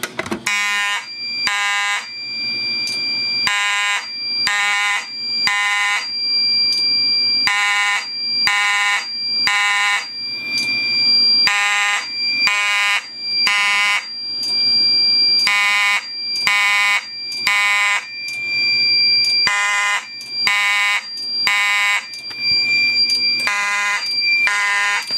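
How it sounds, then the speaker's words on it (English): A Notifier NFW-50 fire alarm sounds a general signaling alarm in a code 3 temporal pattern, loud and close, with repeated bursts of three piercing tones separated by short gaps throughout. "it's a general signaling alarm, but it'll work for this"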